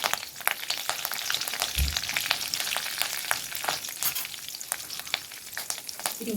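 Curry leaves, mustard seeds and cumin sizzling in hot oil in a home kitchen pan, a close steady crackle with sharp popping spatters and a brief stirring thump, no voice.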